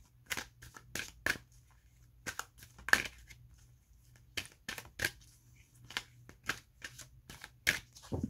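Angel oracle cards being shuffled by hand, a quiet irregular run of crisp riffling and slapping bursts close to the listener, with brief pauses between them and no speech.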